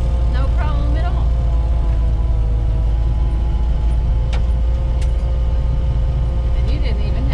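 A 1972 Toyota FJ55 Land Cruiser rolls downhill off-road, its engine giving a steady low drone close by, with brief knocks and rattles from the body and no shifting heard.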